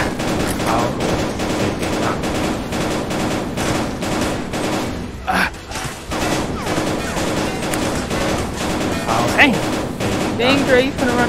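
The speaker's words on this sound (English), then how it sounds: "He's shooting our thing, Trey." Rapid video-game gunfire crackles in dense, near-continuous volleys of automatic bursts and single shots in a VR shooter match, loud throughout with players' voices talking over it.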